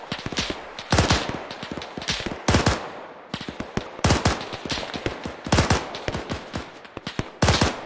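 Automatic gunfire from a World War II-era weapon in the game Arma 3, loud close bursts of rapid shots with brief pauses between volleys, no talking.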